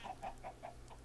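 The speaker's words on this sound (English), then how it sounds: "lots of chickens," Chickens in Minecraft give a quick run of five short clucks in an even rhythm, moderately loud over a low steady background.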